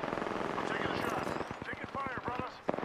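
Gunfire in Apex Legends, a run of sharp evenly spaced shots heard under a voice and game voice lines, moderately loud and close.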